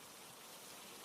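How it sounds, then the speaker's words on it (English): Soft rain falling steadily, a close, even wash of fine patter with no breaks and no voices. "The rain's getting softer. Can you hear it?"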